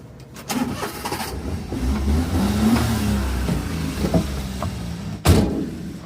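A 1996 Daihatsu Midget 2 one-seater fires up after a brief crank, then its small engine idles and revs steadily for several seconds, ending with a sharp clunk like a door, close and alone.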